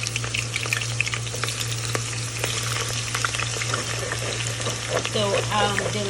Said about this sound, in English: get hot enough to add some of my onions in